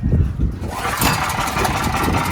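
A cheap $70 portable generator engine sputters loudly up close, catching and running roughly for a moment with a rough mid-pitched drone before it falters.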